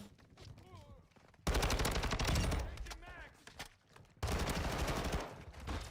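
Call of Duty gunfire, two long loud bursts of rapid automatic fire close up, separated by quieter game sounds with a voice talking over them.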